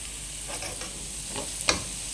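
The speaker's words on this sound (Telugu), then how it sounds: "తీసుకున్న తురుమునంతా వేసి అలా కలిపేసి ఒక 2-3 నిమిషాలు ఉంటే సరిపోతుందండి" Grated raw mango for pickle frying in oil with garlic and spices, a soft steady sizzle with a few stirring scrapes and one sharp utensil tap near the end.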